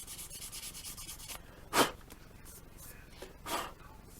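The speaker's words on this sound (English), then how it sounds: "This little bit of light sanding adds some tooth" Soft, steady rubbing of light hand sanding on a plastic model kit surface, fading after a second or so, followed by two brief brushing swipes with quiet pauses between.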